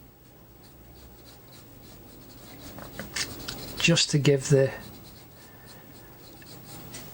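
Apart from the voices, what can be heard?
2H pencil shading on paper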